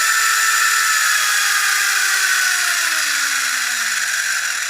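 A Subotech Brave 1:22-scale RC buggy's electric motor screams at full throttle, a loud, continuous high whine whose pitch slowly sags over a few seconds, with no one speaking.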